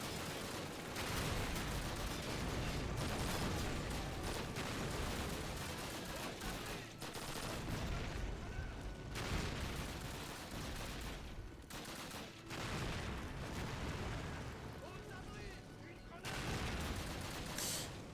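Grenade blasts and dense gunfire in Call of Duty (2003), continuous rattling fusillades and booms filling the whole stretch, with speech-like sounds mixed into the battle.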